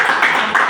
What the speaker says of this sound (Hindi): विनोद सर के लिए जोरदार ताली।